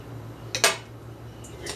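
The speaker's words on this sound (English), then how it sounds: "I'm just going to use this knife to get the rest of it off my spatula here." A knife scrapes cake batter off a spatula into a mixing bowl, two quick metallic scrapes and a couple of faint clinks against a quiet kitchen background.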